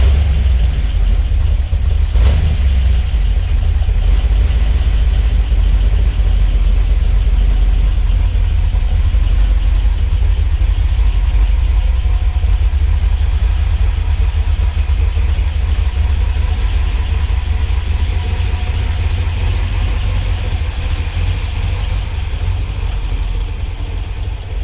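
A 1964 Corvette with a 327 V8, 4-speed and rear-exit exhaust runs at a loud, steady, rumbling idle heard close up, continuous throughout with little change and no obvious revs.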